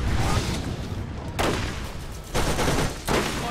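A turret in the video game Borderlands fires in loud sustained bursts of rapid gunfire, several dense volleys separated by brief dips, harsh and close throughout.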